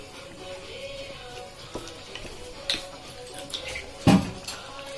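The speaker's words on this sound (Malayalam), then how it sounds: "എന്നിട്ട് അതിന് ശേഷം നമുക്കൊന്ന് അടച്ചു വെക്കാം" A metal lid is set onto a pot of simmering roasted-spice country chicken curry. Soft bubbling and small utensil taps lead up to one sharp clank near the end, followed by a few light knocks.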